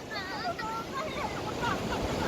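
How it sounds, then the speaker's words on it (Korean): Waves surge up onto the sand at Yeongildae Beach in a continuous loud wash with wind. Excited voices cry out over the surf. "갑자기 파도가 와 여기까지 왔어 여기까지"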